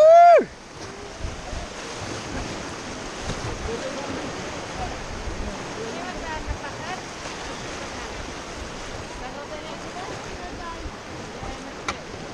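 Rushing river rapids heard while rafting, a steady loud broadband roar of churning water and wind buffeting the microphone throughout, with a brief voice shout at the very start.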